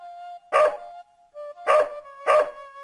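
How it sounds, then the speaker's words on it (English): A small dog in The Blackwell Legacy adventure game barks three times in sharp, close bursts spaced across a few seconds, with a steady tonal hum running between the barks. "And he viciously barks at us."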